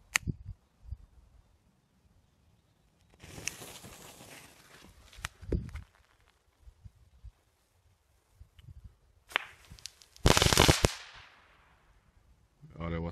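Several sharp bangs and crackling bursts from a Powerball firecracker, one loud blast near the end, with quiet gaps and shuffling between them outdoors.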